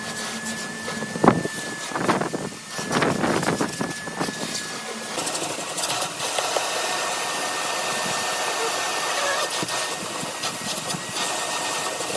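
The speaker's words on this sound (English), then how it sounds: "it vacuums really nicely, doesn't it?" A vacuum cleaner works over the interior of a Rover Streetwise car, a steady close whine with rubbing and knocking of the nozzle against the trim, louder at first and then a constant drone.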